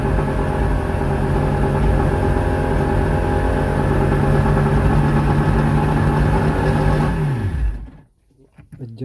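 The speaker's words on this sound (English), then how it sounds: "Look like the idle speed is still too high." An outboard motor idles too high with a steady, loud, close droning hum that runs evenly, then winds down and cuts off near the end, leaving near silence.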